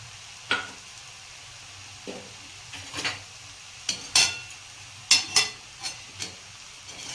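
A spoon mixes lemon juice into batata poha in a pan, producing a series of soft scraping strokes and light metallic clinks spaced irregularly over a quiet background, close and gentle.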